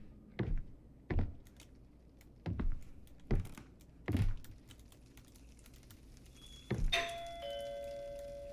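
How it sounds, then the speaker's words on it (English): A doorbell in the horror video game Visage, heard as a series of heavy thunks that end in an electronic chime with a lingering ring, close and fairly loud with no voices. "That doorbell, man. That doorbell."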